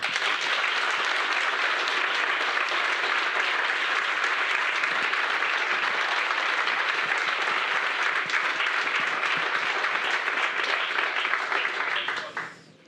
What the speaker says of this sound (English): You can still clap hands for Max.